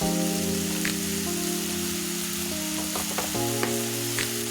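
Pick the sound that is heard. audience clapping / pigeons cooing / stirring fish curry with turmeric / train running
stirring fish curry with turmeric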